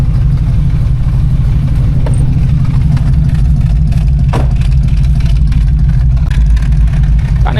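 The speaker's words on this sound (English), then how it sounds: "Got an exhaust leak on this side for sure. Yeah, I can hear it." A 1979 Pontiac Firebird Formula idles at running temperature around 800 RPM with an exhaust leak, a loud close steady rumble with faint ticking and puffing bursts on top.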